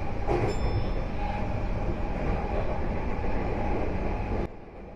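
A Tokyu Den-en-toshi Line train running through a station near the river crossing, heard from inside as a steady loud rumble of wheels and motors with a brief high squeal early on, then dropping off abruptly near the end.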